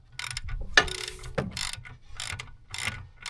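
A ratchet snugs a bolt while an alternator is being changed, producing a few close, quiet bursts of clicking with short pauses between them and no talking.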